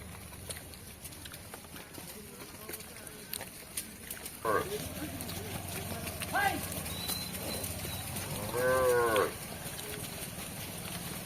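Cattle lowing in a rural village on a rainy monsoon day, a few separate moos at middle distance over steady rain hiss, with faint background voices.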